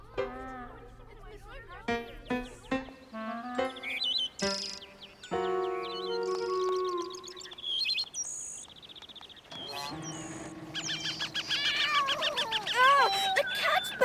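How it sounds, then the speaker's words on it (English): A cartoon cat meows and yowls among a busy run of bird chirps, sound effects and music, with cries rising and sliding in pitch and growing louder toward the end. "The cat's back!"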